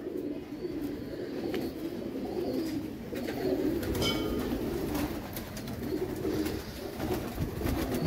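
Caged pigeons coo continuously nearby as breeding pairs are separated, a low, throaty burbling from several birds that overlaps throughout, with faint rustling and no speech.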